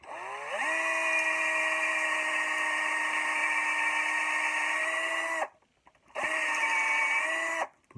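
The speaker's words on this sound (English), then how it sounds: "And now I'm going to drill holes in this wedge" An old Black & Decker power drill whines up to speed and bores holes along a wooden wedge for an axe handle, a steady loud mechanical drone broken by a short pause before a second burst that then stops.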